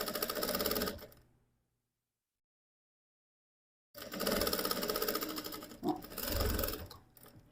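A sewing machine stitches a zipper with built-in lining in two rapid bursts of mechanical whirring and needle clatter, separated by about two seconds of silence.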